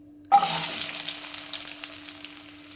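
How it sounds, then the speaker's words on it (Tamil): Small shallots dropped into hot oil, bursting into a loud, close sizzle that slowly settles into steady crackling frying, with no talking. "இப்போ ஆயில் ஹீட் ஆயிடுச்சுங்க. ஃபர்ஸ்ட் நாம சின்ன வெங்காயத்தை வதக்கிக்கலாம்."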